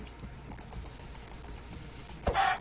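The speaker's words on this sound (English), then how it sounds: "Sorry if you guys can hear my mouse clicking in the background." Sharp computer clicks tap out close and fairly quiet in a quick irregular run while a Minecraft game is played, ending in a brief louder burst.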